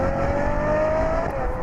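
A Ferrari FF V12 engine rising steadily in revs, a single continuous sustained note that climbs smoothly in pitch, loud and close throughout with no talking.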